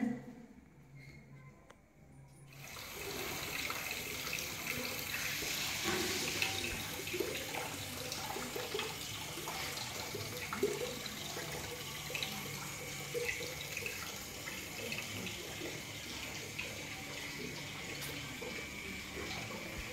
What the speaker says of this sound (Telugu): నీళ్ళు బయటికి వెళ్ళి ఆ గ్లాస్ శుభ్రం కడిగి మంచిదే